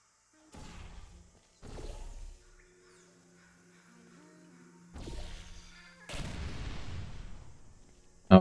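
Turret gunfire in the video game Portal Stories: Mel: several short, loud bursts of shots and impacts separated by quiet gaps, with a faint tonal hum running underneath.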